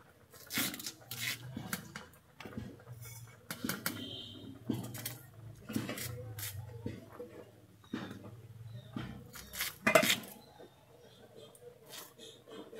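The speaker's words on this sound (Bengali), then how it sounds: "আমি ওলটাকে কেটে নিচ্ছি" A knife cuts elephant foot yam on a board, making a steady series of crisp chopping knocks about once a second while someone speaks over the work.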